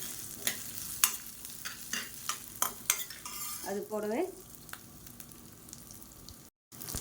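Ginger and fenugreek seeds stirred and dry-roasted in a pan: a run of sharp, close spoon scrapes and clinks against metal over a soft frying hiss, then a quieter stretch before a short cutoff.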